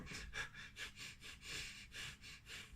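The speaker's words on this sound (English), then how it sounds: "you tend to breathe shallow, tend to do shallow breathing" Shallow chest breathing is demonstrated with quick, rapid inhales and exhales in a steady rhythm, close and fairly quiet, with no talking.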